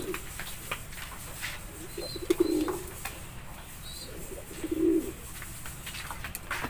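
Young racing pigeons coo in a couple of soft, low bursts against steady background noise, fairly close and unaccompanied by talk.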